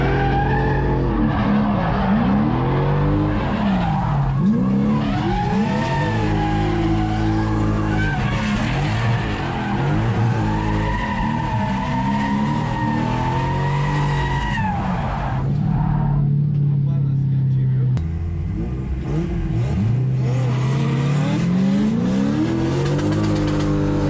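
A V12-swapped BMW E30 drift car at a drift event in Croatia, engine roaring and revving hard with sustained tire squeal and skidding, loud and continuous with swooping pitch changes.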